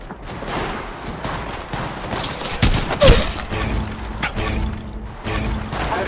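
Rapid gunfire in the video game Apex Legends, a loud, dense clatter of shots and mechanical weapon clicks that peaks in the middle of the clip, with no voices.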